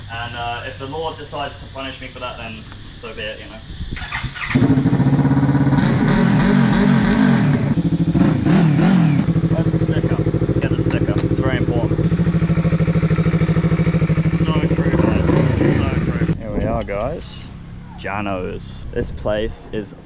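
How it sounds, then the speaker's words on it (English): A motorbike engine runs and revs steadily while riding on a street in Koh Samui, Thailand, loud and close throughout, with someone talking over the engine noise. "I'm going to show you guys my motorbike"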